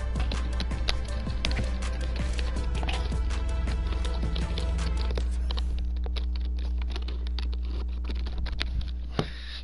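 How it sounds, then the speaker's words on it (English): A loud computer keyboard clatters under quick, uneven keypresses, a busy run of sharp clicks over a constant low electrical hum, close and clear throughout. "instead of keyboard that sounds like this if you press buttons"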